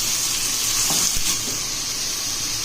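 Meat frying with onions in a pot gives a loud, steady close-up sizzle, with a brief stirring scrape near the middle and no voices.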